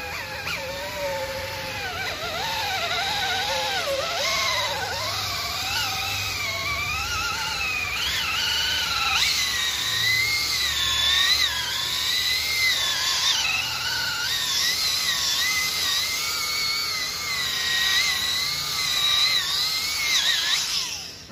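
A cordless drill buffing a car headlight with compound, a high whirring motor whine that wavers and dips in pitch under load, running continuously and close for about twenty seconds with no talk.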